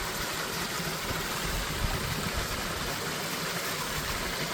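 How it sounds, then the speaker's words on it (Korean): Steady rushing water from a flowing mountain valley stream at Hwaaksan in Korea, broad and constant with no pauses, filling the scene at a moderate level. "이렇게 물소리 들어보니 너무 좋네요"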